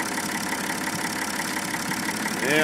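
A Ford diesel engine is engine braking with the fuel let off, producing a loud, steady, rough drone that swells briefly at the end.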